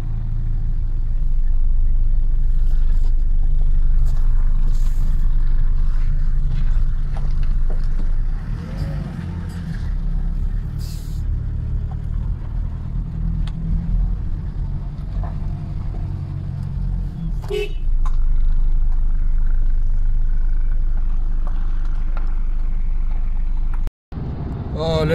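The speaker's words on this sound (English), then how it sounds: "we are now driving to the port of Antwerp. We are following the truck" Car driving on a road from Frankfurt toward the port of Antwerp behind a loaded truck, a steady low engine and road rumble throughout, with a brief dropout near the end.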